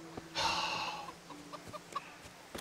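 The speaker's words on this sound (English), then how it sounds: "Can I take a chicken? Can I sell a chicken? Hello, chicken." A chicken in the Kingdom Come: Deliverance video game lets out a raspy squawk, then several short soft clucks, heard close against a quiet background hum.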